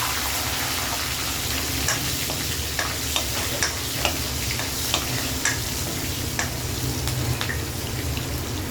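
Small onions sizzle and crackle in hot oil, a steady close frying hiss with scattered pops and occasional stirring clicks, no voices.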